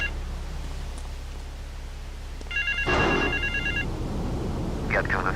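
A telephone rings in the video game Grand Theft Auto IV, two bursts of electronic trill, one long and one short, over a low hum, with a voice talking in the background.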